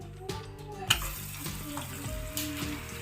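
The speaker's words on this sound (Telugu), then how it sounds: "ఇప్పుడు దీంట్లో నేను పకోడీని చెక్క పకోడీని ఎలా వేసుకోవాలో చూపిస్తున్నానండి" Ribbon pakoda batter hits hot oil with a sudden sizzle and bubbling fry that carries on steadily, with a faint clink near the start.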